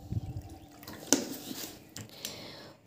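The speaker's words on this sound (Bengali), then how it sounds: "এবার আমি এর ভিতরে দিয়ে দেব জল" Water poured onto a spoonful of fenugreek seeds in a small container, a brief splashing pour with light drips and trickles, faint and close.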